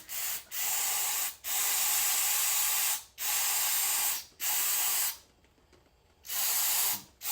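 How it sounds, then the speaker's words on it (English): Long, loud hissing bursts from an aerosol cleaner can spraying a mass airflow sensor on a Lexus LS 400, several sustained sprays of a second or more each, separated by brief pauses, very close. "I'm supposed to spray it in this hole or not."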